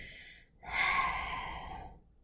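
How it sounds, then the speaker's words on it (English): Dancers breathe heavily after a hard dance, with one loud, long exhale that tails off slowly after a short intake, close and alone in a quiet room. "all that can be heard is the dancers breathing"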